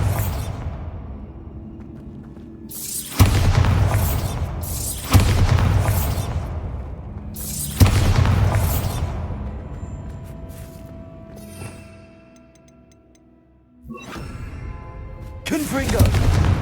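Bombarda spell blasts from the video game Hogwarts Legacy go off as several loud, booming explosions spaced a few seconds apart, each with a rumbling tail, the last following a quieter lull.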